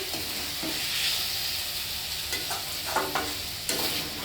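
Seasonal country mushroom masala frying in a pan, a steady close sizzle broken by several scraping stirs of a spatula.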